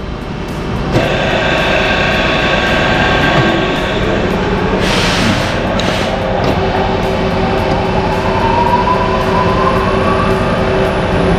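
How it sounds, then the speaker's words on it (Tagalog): A factory machine in Taiwan starts up and runs, a loud, steady mechanical roar with rumbling low tones and a rising whine, continuous and close for the whole stretch with no voices. "Start lang natin yung makina."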